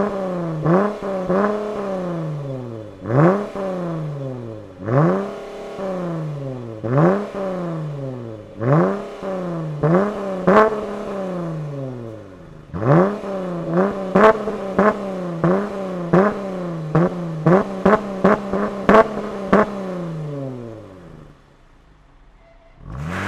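A 3.6-litre six-cylinder car with a modified exhaust is revved repeatedly, loud close blips rising and falling, first spaced apart, then a rapid burst of short stabs before settling to idle.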